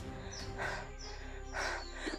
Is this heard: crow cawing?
yes